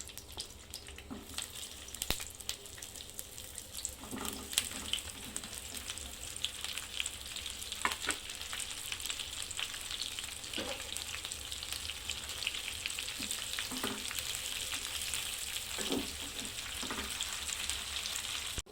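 Okra (bhindi) sautés in a few spoons of oil in a pan over medium heat, a steady close sizzle running throughout with occasional sharper crackles and light stirring scrapes.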